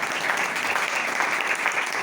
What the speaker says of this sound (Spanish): un aplauso para todos ustedes y para nosotros